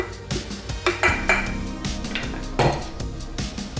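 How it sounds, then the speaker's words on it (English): Shredded pork being added to liquid in an Instant Pot set to sauté, with close clanks and scrapes of a utensil against the metal pot and brief knocks, no talk. "I'm going to add my shredded pork into the liquid"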